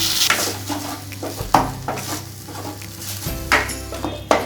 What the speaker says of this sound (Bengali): এরপরে আমি দেব সয়াবিন সেদ্ধ করে পেস্ট করা আছে।